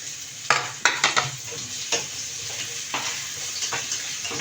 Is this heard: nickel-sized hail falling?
no